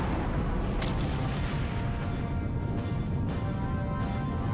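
A cannon explodes in the video game Sonic Adventure 2 Battle: booming blasts with sharp bursts near the start and again later ring over a dense, continuous rumble of game noise.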